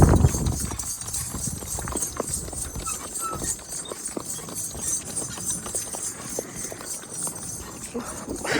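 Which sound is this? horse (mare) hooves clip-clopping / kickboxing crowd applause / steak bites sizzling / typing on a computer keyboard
horse (mare) hooves clip-clopping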